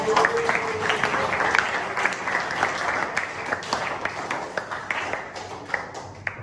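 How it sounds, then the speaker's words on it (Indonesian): Classroom applause for a student named Haikal, steady dense clapping from a group filling the whole stretch with sharp individual claps standing out near the end, a voice faintly underneath. "Beri tepuk tangan untuk Haikal"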